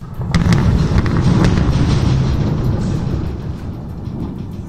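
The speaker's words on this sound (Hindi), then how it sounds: "इन तस्वीरों में बीच बीच में कान के पर्दे फाड़ देने वाली धमाकों की आवाज भी सुनाई दी।" Booming blasts at the Azovstal steel plant in Mariupol under bombardment, a dense roaring rumble with sharp cracks in the first seconds, loud and sustained throughout.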